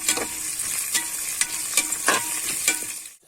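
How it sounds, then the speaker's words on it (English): Green chilies frying in a pan, a steady broadband sizzle with repeated stirring scrapes and clinks about every half second, close and fairly loud, no talking. "And later I'll add some chilies, green chilies. So fry this properly."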